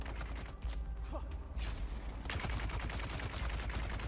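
Gunfire in the sci-fi survival game Dune: Awakening, with a dense, continuous spray of shots and impacts filling the whole stretch, loud and close, with no voices.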